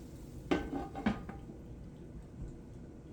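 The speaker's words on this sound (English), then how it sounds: "I'm going to put my lid back on." A metal lid set back onto a skillet of keto green beans on low heat, two quick clanks close by over a faint simmer.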